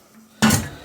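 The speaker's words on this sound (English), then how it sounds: "And put that kettle back on there" A kettle is set back down on its base with one sudden, clattering metallic clunk after near silence, close and loud, ringing briefly before fading.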